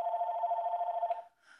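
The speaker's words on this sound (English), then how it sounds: "Then the phone rings." A telephone rings with a steady electronic trill that holds for about a second, then cuts off, followed by a faint rustle.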